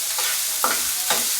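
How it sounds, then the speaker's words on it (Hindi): Chopped onion and tomato are stirred and sautéed in a hot pan, a close continuous sizzle broken by two or three quick scraping strokes of the spoon. "प्याज को हमें सॉफ्ट करना, ज़्यादा पकाना नहीं है"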